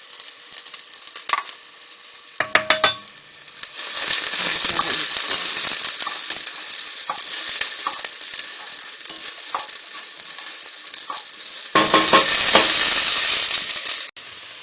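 Garlic and vegetables fry in hot olive oil, a loud, steady sizzle with stirring clatter and scraping, flaring up as ingredients hit the pan near the start and again toward the end.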